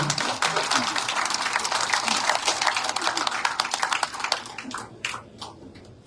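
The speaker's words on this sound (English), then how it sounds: "Please clap for Liberian women." Clapping fills a large assembly hall during a Liberian address at the UN General Assembly, a dense round of many hands that thins into scattered individual claps before stopping.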